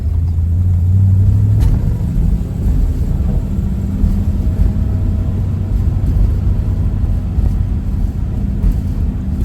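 A 1950 Oldsmobile 88 with the 303 Rocket V8 and a three-speed manual pulls hard on the open road, its deep, steady low rumble loud and close, with no talking.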